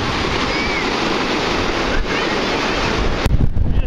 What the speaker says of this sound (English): We just got a big puff of wind.